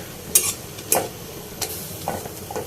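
Tomatoes softening in hot oil on a stove: a low steady sizzle broken by several sharp spoon scrapes and clinks against the pan, close and fairly loud.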